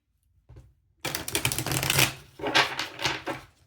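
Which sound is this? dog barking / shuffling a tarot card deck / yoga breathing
shuffling a tarot card deck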